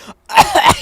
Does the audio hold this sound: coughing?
yes